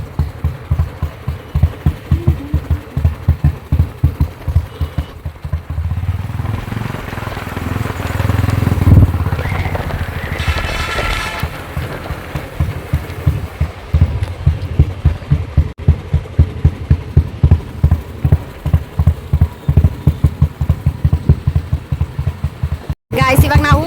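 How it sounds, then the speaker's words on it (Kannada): Royal Enfield Bullet motorcycle engine running at a crowded Moharram festival ground, a steady low rhythmic thump like drumming that continues throughout, with crowd noise and voices mixed in. "ಬುಲೆಟ್ ಒಳ್ಳೆ ಡ್ರಮ್ ಬಾರಿಸ್ತಾರಲ್ಲ, ಹಂಗೆ ಬರ್ತೈತೆ ಅದು."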